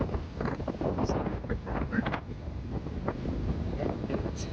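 Wind buffets the microphone outside a fourth-floor hotel room in Tagaytay, a steady rough rumble with gusty swells throughout.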